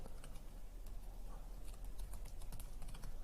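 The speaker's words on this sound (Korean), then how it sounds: "지금 보시면 제가 타이핑 하게 되는데요" Quiet clicks of a computer keyboard as someone types an answer, soft irregular keystrokes close by over a low hum, with no talking.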